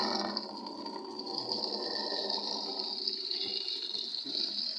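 Water gushes steadily into a basin for hand washing clothes, a loud continuous close rushing fill with a slight change in tone partway through.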